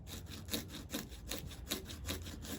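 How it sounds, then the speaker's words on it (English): A cork being sawn in half by hand while making a cypress wood duck call, with steady back-and-forth rasping strokes at an even rhythm, close and moderately loud throughout. "cut this cork in half"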